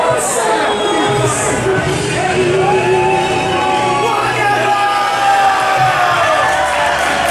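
Arena crowd at a professional wrestling show cheering, shouting and whooping continuously, loud and dense, with voices rising through the mix across the whole stretch.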